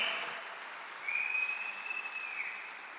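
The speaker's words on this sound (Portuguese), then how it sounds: "uma salva de palmas para ele" An audience applauds at a talk, a soft, distant patter of clapping that swells briefly and then fades. A faint high ringing tone runs through the middle.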